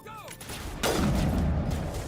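Gunfire in the video game Mass Effect on insanity difficulty erupts into a sustained loud burst of shots and blasts, dense and continuous after a brief quieter start.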